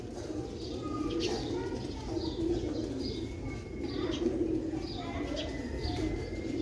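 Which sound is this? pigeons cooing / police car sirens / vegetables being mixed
pigeons cooing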